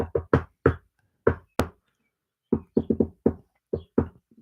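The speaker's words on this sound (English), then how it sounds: "Wasn't the Money! knocking on the door in that game?" Knocking on a door inside a video game, heard as a loud series of sharp raps in uneven clusters with short pauses between groups, with no other sound around it.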